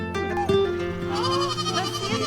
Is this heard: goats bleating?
yes